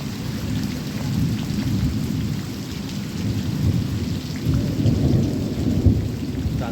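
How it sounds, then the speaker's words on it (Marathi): A monsoon thunderstorm in the Konkan: heavy rain pours steadily and loudly while low thunder rumbles and swells underneath, with no voices. "जोरदार पावसाला सुरुवात झालेली आहे विजांचा कडकडाट होता बघा"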